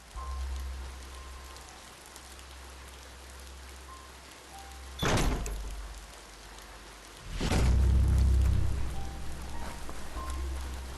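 Steady rain patters over a low rumbling bed in the game Biomutant, swelling into heavier bursts around five and eight seconds before settling back into a constant downpour, with no voices.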